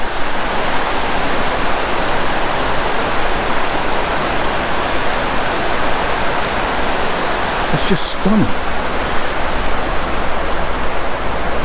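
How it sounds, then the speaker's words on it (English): River rapids rush in a steady, loud roar of churning water beside a bend in a river near Gatlinburg, with a person briefly speaking over the continuous flow. "Here's the rapids. There. There's rapids there."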